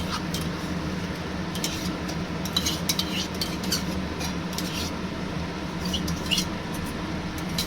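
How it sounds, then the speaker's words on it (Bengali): A spoon scrapes and stirs spice masala mixed with yogurt in a pan, giving soft continuous clinks and scraping over a low steady background, close and moderately loud. "যেহেতু দই দিয়েছি অবশ্যই নাড়তে হবে যাতে দইটা ছানা না হয়ে যায়।"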